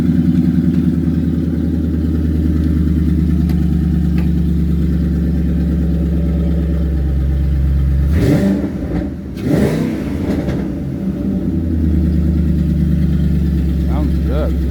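A Ford 4.6-litre three-valve V8 idles steadily after starting, a loud even low rumble close by; a brief blip of revs breaks in near the end before it settles back to idle.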